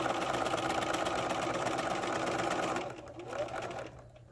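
Sewing machine stitching an apron, a fast steady mechanical chatter that runs close and even, then slows and fades to lighter intermittent clicks near the end.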